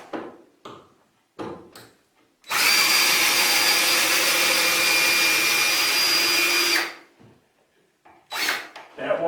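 A power drill backs out screws to take apart a wooden shelter. Short whirring bursts are followed by one long, loud, steady run of several seconds, then more brief spins, all close by.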